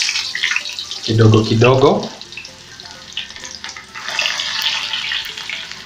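Onion rings fry in very hot oil for goat biryani, a loud continuous sizzle and crackle that briefly drops and then swells again, with a voice speaking over it.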